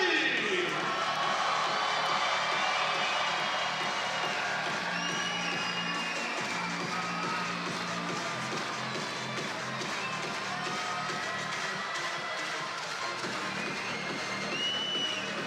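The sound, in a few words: futsal arena crowd cheering and making noise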